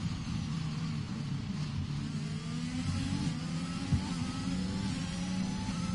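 Formula 1 cars from the F1 2021 racing game howl along the Baku street circuit's start-finish straight in Azerbaijan, a steady, loud engine drone with shifting pitch lines as cars pass, continuous throughout.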